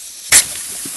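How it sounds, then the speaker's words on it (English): Air rushing out of the valve of a massive off-road car tyre in the Icelandic highlands, a single sharp loud burst of hiss that settles into a steady, softer hissing release. "it's time to take some air out of these massive tyres"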